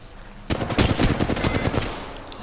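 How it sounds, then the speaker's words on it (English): Automatic gunfire in Apex Legends bursts in abruptly and keeps going as a dense, loud rattling stream of rapid shots for about two seconds, then thins out as it tails off. "Somebody shooting at us?"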